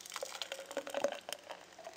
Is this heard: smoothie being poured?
yes